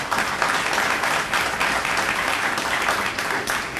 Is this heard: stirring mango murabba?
no